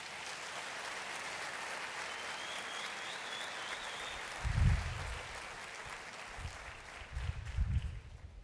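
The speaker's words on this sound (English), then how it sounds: "give them a thunderous round of applause" Audience applause at a university graduation ceremony, a broad steady clapping wash heard at a distance in a large venue, with a few low thumps along the way.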